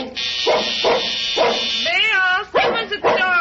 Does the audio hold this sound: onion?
no